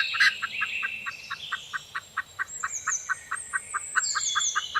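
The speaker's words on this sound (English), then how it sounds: "Hen." A hen clucks in a steady, even series of short, close clucks, roughly three a second, while small birds chirp faintly higher up throughout.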